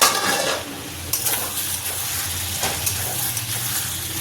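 Chicken frying with spices in a pan over a low gas flame, giving a steady close sizzle with occasional scrapes and clinks of a utensil against the pan.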